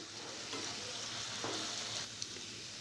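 A steady, close sizzle of spinach paste frying in a pan, with soft scraping strokes as it's stirred.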